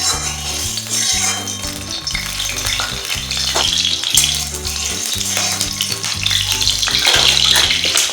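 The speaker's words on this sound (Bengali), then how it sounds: "এবার দিয়ে দিচ্ছি সরষের তেল। তেলটাকে ভালোভাবে গরম করে নিচ্ছি।" Mustard oil heating in a wok hisses loudly and steadily, with a rhythmic low clanking and scraping of metal utensils repeating underneath throughout.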